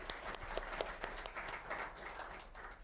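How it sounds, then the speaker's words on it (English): An audience at the brightonSEO April 2024 ecommerce SEO panel applauds the panelists, a faint, distant patter of clapping that holds steady for a few seconds. "A big round of applause to them"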